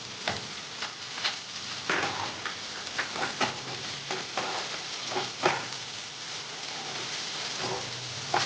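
Onions fry in a pan for chilli paneer, a dense steady sizzle with crackles and spatula scrapes throughout, loud and close, with no talking.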